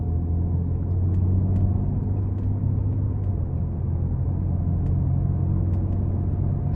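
A 2022 Genesis G70 3.3T in normal comfort mode drives on the road, heard as a steady, low engine and road rumble from inside the cabin with a few faint ticks.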